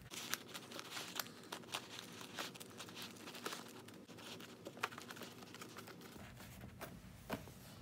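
Foil cover being folded down over the edges of a baking container, giving faint, close crinkling and crumpling with scattered light taps throughout, and no voices.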